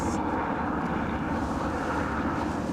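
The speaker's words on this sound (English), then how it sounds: "There's another helicopter on finals." An NHV helicopter on final approach to land at Aberdeen airport, heard as a loud, steady engine and rotor rumble that holds unbroken throughout, with no speech over it.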